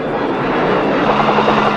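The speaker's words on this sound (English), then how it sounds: "the Air Force jets dart in with their heavy ordnance" A steady, loud roar of a U.S. Air Force jet fighter-bomber flying in for close air support with heavy ordnance, a continuous engine rush with no gaps.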